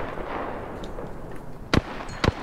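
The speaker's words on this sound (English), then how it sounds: "Opening fire on the enemy." Two sharp, loud gunshots in the Apex Legends battle royale game ring out close by, about half a second apart, over a steady low hum of in-game ambience.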